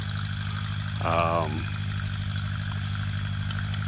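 A tractor engine idles steadily nearby during hay making, with a low, constant rumble; a short voiced sound briefly rises over it, then the engine drones on alone.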